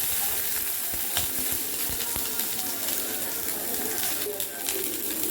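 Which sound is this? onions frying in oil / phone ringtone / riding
onions frying in oil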